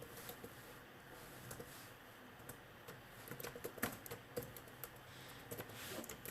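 Quiet, close typing on a computer keyboard while coding a Python Django leave-application form, irregular clusters of soft key clicks growing busier toward the end over faint room noise.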